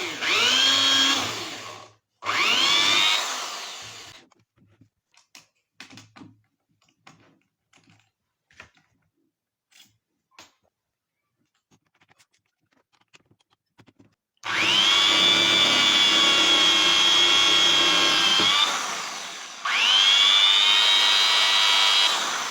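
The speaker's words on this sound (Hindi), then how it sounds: "इसी ड्रिल मशीन का उपयोग करके हम इस स्विच बोर्ड में एक होल कर देते हैं" An electric drill boring a hole in a switch board, two short whining bursts, then quiet scattered clicks and taps, then two longer steady loud drilling runs, with no talk.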